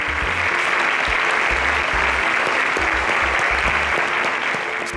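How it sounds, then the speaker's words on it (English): Loud, sustained applause from a studio audience greets contestants on a Nigerian competition show, a thick, even roar of clapping lasting the full stretch with faint low thumps beneath. "Please, a round of applause for them."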